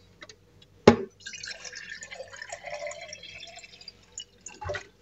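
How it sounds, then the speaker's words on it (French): Filtered water pours steadily from a container into a glass for about three seconds, framed by a sharp clink at the start and a soft knock at the end, close and fairly quiet. "Du coup, je vais mettre de l'eau filtrée."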